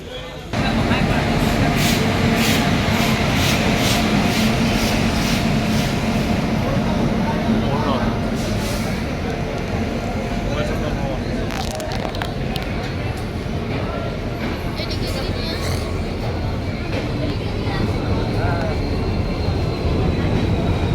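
A Donyi Polo Express passenger train hauled by a WDP-4D diesel locomotive rumbles loudly and continuously close by, with rattling wheels and a brief high whistle, while people talk underneath.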